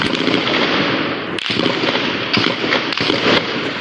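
Gunshots ring out outside a house, a dense crackling barrage of sharp bangs with a few louder distinct cracks, close and loud with no talking.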